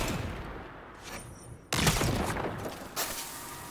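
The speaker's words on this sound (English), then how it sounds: "Fires a spread of void projectiles aiming down the sides, and now it's a spread." A shotgun-like weapon firing a spread of void projectiles in Destiny 2, a sudden loud close blast followed by a decaying rumble and a second shot soon after.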